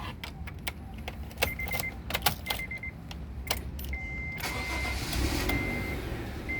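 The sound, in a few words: Honda Brio 1.2 RS car engine starting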